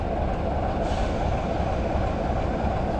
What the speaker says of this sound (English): You hear the big old diesel engine right there.